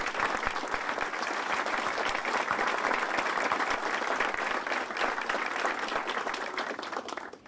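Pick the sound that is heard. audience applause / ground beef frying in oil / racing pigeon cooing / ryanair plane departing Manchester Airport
audience applause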